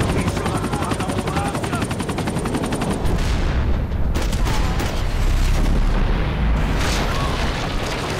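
Helicopter going down in the video game Max Payne 3, a loud continuous rotor chop with gunfire bursts and a heavy booming crash, dense battle noise throughout.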